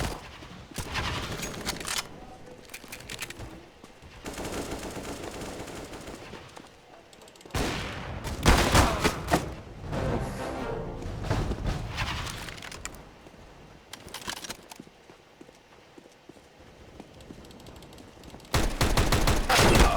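Gunfire from M4 and AWP weapons in the video game CS:GO, dense bursts of rapid shots and louder single cracks spread across the stretch, with a few faint voices underneath.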